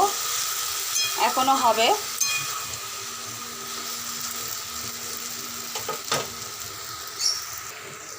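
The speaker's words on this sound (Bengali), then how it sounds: "পেঁয়াজগুলো দিয়ে চিংড়ি মাছ একটু ভাজা ভাজা মতন হয়ে আসবে" Onions and prawns fry in a pan with a continuous sizzle and occasional stirring scrapes, close and moderately loud, with a short spoken phrase near the start.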